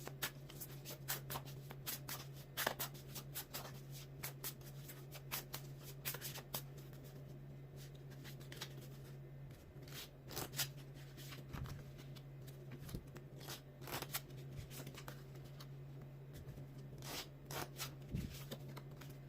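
Tarot cards are shuffled by hand, a soft, close series of rapid riffling and sliding bursts repeating irregularly, with short pauses between handfuls and a steady low hum underneath.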